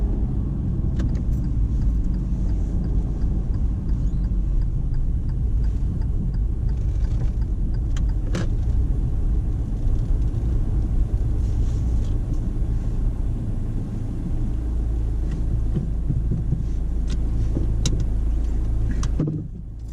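A car engine runs steadily throughout a driving test, a continuous low rumble heard from inside the cabin with small clicks and handling noises; it fades out abruptly at the very end.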